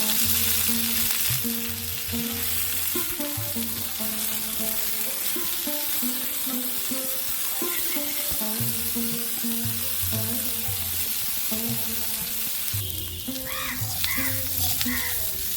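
Sliced bitter gourd fries in oil in a pan for a home-style milky shukto, giving a steady, continuous sizzle that runs close and fairly loud throughout, with tonal background music underneath.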